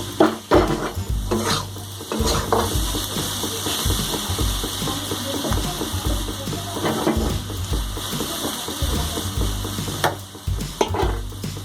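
Potato pieces frying in oil in a pan over full heat, a steady close sizzle broken by repeated scraping and stirring strokes of a spoon, with no talk.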